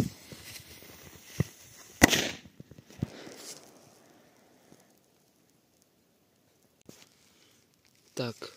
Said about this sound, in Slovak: Teraz ide petarda nukleár.